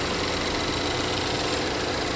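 A Chevrolet Equinox 2.4 liter engine running, a steady, close, continuous hum with an even rumble and no breaks or talk.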